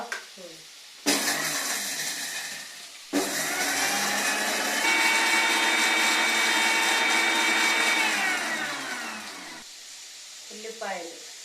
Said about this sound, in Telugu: నువ్వు మిక్సీలో అది వేస్తున్నావా